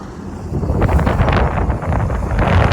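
Strong wind buffets the microphone with a steady low rumble and gusty roar, close and loud throughout with no voices.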